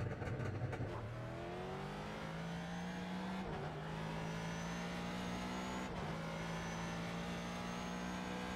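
A racing video game car engine revving steadily and close, its pitch climbing through gears with a brief dip at each shift, alone with no voices.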